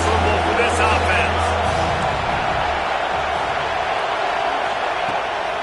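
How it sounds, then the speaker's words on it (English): A football stadium crowd roars against the visiting offense, a continuous, loud wall of massed voices with a low rumble in the first seconds. "This crowd trying to make life miserable for this offense."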